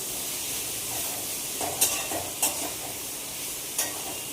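Khichuri being cooked and stirred in a pot, soft steady sizzle with three or four sharp spoon clinks spread out, close but fairly quiet, no talking.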